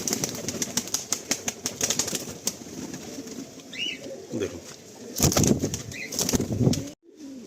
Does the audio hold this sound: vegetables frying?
no